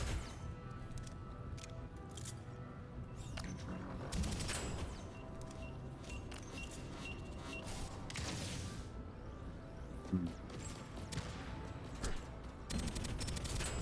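SMG gunfire in the roguelite shooter Deadzone: Rogue, with bursts of rapid shots scattered over a busy mix of impacts and game effects, sustained and fairly loud throughout.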